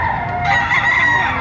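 A rooster crows loudly and close in a long sustained call, with a faint hum of other birds behind it.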